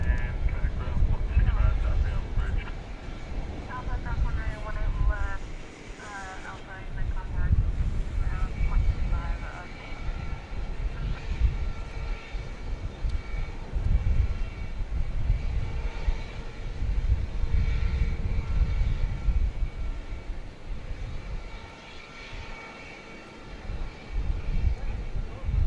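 An Airbus A321neo airliner, flight 1681 from El Paso, Texas, approaching DFW Airport, gives a steady low engine rumble that runs throughout, with people talking over it.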